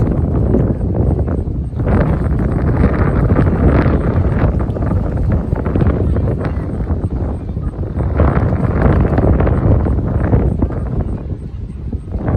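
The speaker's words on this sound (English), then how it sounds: "that wind is fierce." A fierce wind buffets the microphone on a football field, a loud, continuous low roar that swells and dips throughout, with a brief lull near the two-second mark.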